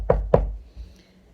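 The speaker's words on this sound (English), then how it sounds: "there was a knock at the door" Two sharp, close knocks on a door in quick succession, followed by near silence.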